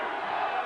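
A boxing arena crowd roars in support of Thornton, a brief, dense, sustained swell of distant cheering and shouting with no clear single voice.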